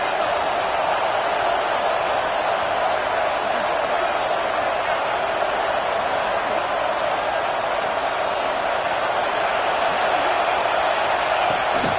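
Football stadium crowd at a Miami vs Notre Dame game, a continuous loud roar of many voices urging the defense on near the goal line, sustained and even throughout without breaks.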